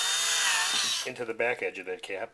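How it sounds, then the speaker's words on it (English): Power drill with a 1/8 inch bit boring through the edge cap of coroplast, a brief high whine winding down, then someone talking over the quiet end. "I'm going to drill a hole all the way through"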